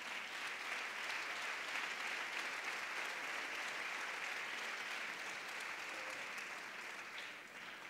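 A gala audience at the twentieth-anniversary celebration of the murga Hijos de Chano el Negro claps loudly and continuously for about eight seconds, a thick, even wash of many hands that eases slightly near the end.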